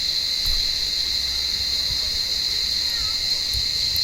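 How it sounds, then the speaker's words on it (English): Cicadas in an olive tree give a continuous high, even buzzing drone with no breaks, holding steady throughout at moderate loudness. "He can hear those cicadas, he can sense them"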